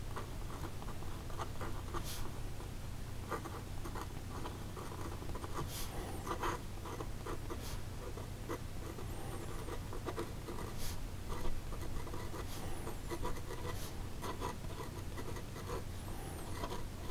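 A sharp glass pen nib scratches steadily across paper with Pelikan Edelstein Aquamarine ink, a quiet, close, continuous scratching broken by brief strokes and lifts.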